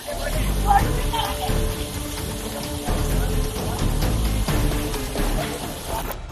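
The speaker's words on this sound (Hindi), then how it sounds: "जोरदार बारिश से डूबता ये है राजस्थान का पाली।" Heavy rain pours steadily during flooding in Pali, Rajasthan, where water from the Girinanda dam has entered homes; a dense, continuous wash of rainfall with low rumble throughout.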